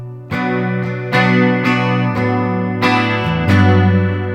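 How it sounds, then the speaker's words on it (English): Clean electric guitar chords ring out one after another, shimmering with a wavering, doubled chorus effect, played alone through a Neural DSP Quad Cortex. "let's turn on that chorus"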